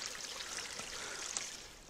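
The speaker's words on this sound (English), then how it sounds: "It looks like most of the water is coming out of" Water pours steadily out of a tunnel beneath a trail, a continuous broadband rush and trickle at close range with no breaks and nothing else over it.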